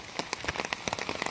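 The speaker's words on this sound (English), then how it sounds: "I don't know if you can hear it, but it's raining" Steady rain falling outdoors and pattering on a surface, close by, with dense irregular drops and a few sharper taps, no voices.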